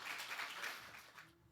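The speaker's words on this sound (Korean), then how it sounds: "우리 큰 박수로 맞이하도록 하겠습니다" A church congregation at a Friday night prayer service bursts into applause to welcome a missionary speaker, a dense wash of clapping that fades after about a second.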